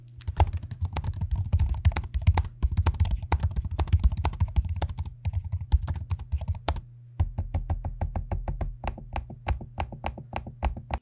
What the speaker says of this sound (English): here's a quick audio sample of me using the keyboard and the trackpad so you can hear what that sounds like for yourself